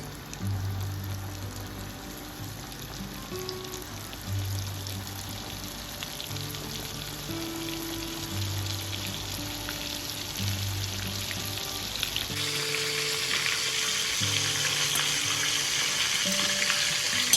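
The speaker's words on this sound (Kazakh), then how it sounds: "Содан кейін осылай майға пісіреміз." Flour-coated cutlets frying in oil give off a soft, constant sizzle with a low hum underneath, and the sizzle grows brighter and louder partway through.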